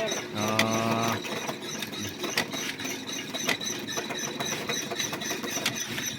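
A traditional Lao hand loom weaving silk skirt cloth gives off sharp wooden clacks and knocks at irregular intervals, with a brief whirring tone near the start, moderately close and not loud.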